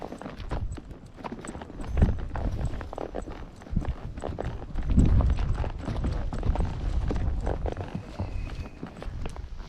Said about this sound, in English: Here I'm riding Luna, a 4-year-old foxtrotter mare.